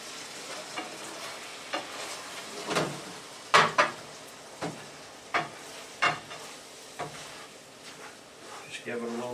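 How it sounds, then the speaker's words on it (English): Beef noodle stir fry with bell pepper and bok choy sizzles steadily in a pan while a utensil scrapes and clacks through it in irregular strokes, close and moderately loud, with faint talk in the background. "Just give it a little bit of a stir."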